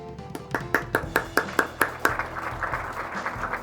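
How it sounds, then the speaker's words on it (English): Office staff give themselves a round of applause, a thin spread of hands with about a dozen distinct sharp claps at first, then blurring into a faint patter. "let's give ourselves a round of applause"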